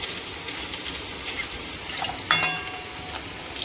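Whole cinnamon and cardamom tempering sizzling in hot oil, a steady fizzing crackle with a few brief sharper pops and a faint clink of a utensil, close up.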